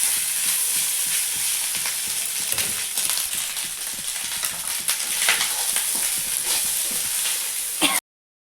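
Goat blood fry with chili powder cooks in a pan, sizzling loudly and continuously with scraping stir strokes throughout before it cuts off abruptly.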